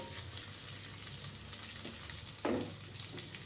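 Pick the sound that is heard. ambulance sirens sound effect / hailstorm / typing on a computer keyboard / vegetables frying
vegetables frying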